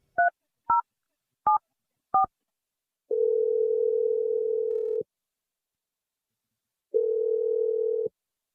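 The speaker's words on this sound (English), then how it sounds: "I'm going to dial his number right now." Landline telephone being dialed: four short touch-tone beeps in quick succession, then a steady dial-type tone for about two seconds, a silent gap, and another shorter stretch of the same tone, clear and close with no voices.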